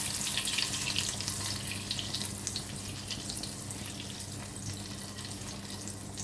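American-style pancakes frying in butter in a pan, giving a continuous, even sizzle and crackle at close range with no talking.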